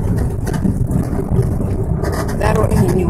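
Steady low rumble and rattling vibration inside a shaking marshrutka minibus driving on a rough road over the Dnieper, continuous and close, with no voice over it.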